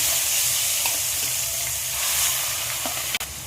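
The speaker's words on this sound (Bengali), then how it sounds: "এবার আমি মাছের পিসগুলো একটা একটা করে তেলের মধ্যে ছেড়ে দিচ্ছি" Pieces of katla fish frying in hot oil, a loud continuous close-up sizzle with a few faint clinks and one sharp knock near the end, no voices.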